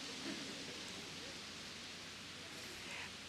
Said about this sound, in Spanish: bienvenida a la lluvia